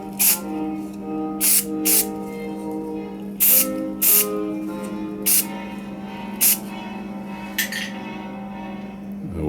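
Short bursts of aerosol spray paint laying down flat red primer in a garage, about eight hissing blasts spaced irregularly over a steady low hum, with faint clinks between.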